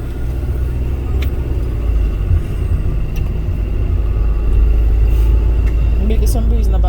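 Steady low rumble of a bus carrying passengers along a road between Mammee Bay and Trelawny, Jamaica, loud and continuous with faint rattles, while people chat quietly over it.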